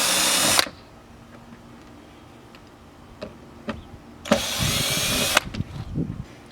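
A power driver fitted with a T15 socket backs screws out of a C7 Corvette Z51 rear spoiler seal area, with two loud whirring bursts, one short and one about a second long, separated by quiet clicks and handling taps.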